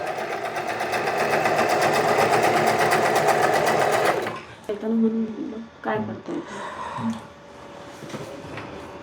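An Usha electric sewing machine runs a continuous stitch, a fast, even mechanical whir and clatter close by for about four seconds, then stops while someone talks over a few faint handling sounds.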